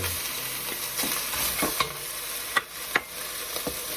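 Vegetables sizzle and are stir-fried in a hot pan for Thai pork rad na, a steady frying hiss broken by a few sharp clacks of a spatula against the pan, heard close with no talk.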